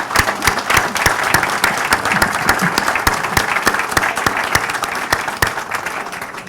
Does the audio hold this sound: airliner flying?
no